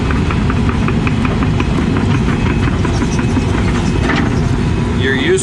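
Cold heavy grading machine at work during land balancing, its diesel engine running in a steady, loud mid-range rumble with hydraulics straining, a continuous close mechanical drone for the whole stretch.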